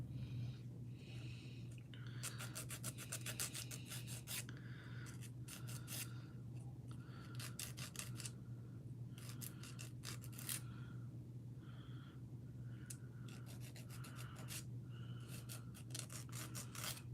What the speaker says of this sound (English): I'm just filing my nails